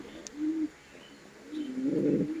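A white foreign-breed pigeon gives two low, soft coos close by, a short one and then a longer rolling one, with quiet room noise between them and no talking.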